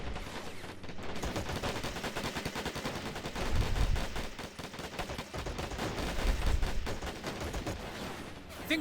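Rapid blaster bolts and submachine-gun bursts crackle through a Star Wars battle on Tatooine in the Men of War real-time strategy game, dense overlapping volleys with heavier swells midway, no talking.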